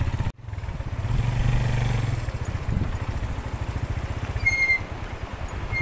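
Motorcycle engine on a rough, difficult mountain track through a landslide area near Kalam in Swat, a close pulsing chug with clattering bumps and small revs throughout.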